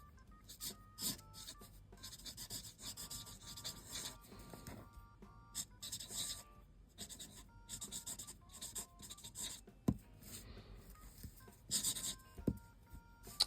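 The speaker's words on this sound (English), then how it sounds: "So I'm going to write happy birthday, Grandpa Murray." A pen writes on toned paper, giving soft intermittent scratching and rubbing strokes with brief pauses, close and quiet, no talking.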